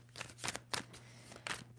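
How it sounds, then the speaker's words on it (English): A deck of tarot cards being shuffled in several quick riffling bursts with short pauses between them, close and soft over a faint background hum. "Two more shuffles."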